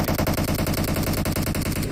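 Rapid automatic gunfire in PUBG Mobile, a dense loud burst of evenly spaced shots running steadily for about two seconds with no voices over it.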